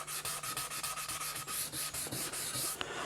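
Sandpaper rubs back and forth over the nitro lacquer finish on a Rickenbacker 620/12 twelve-string guitar body, a close, steady run of rhythmic strokes at a quick even pace with no voices.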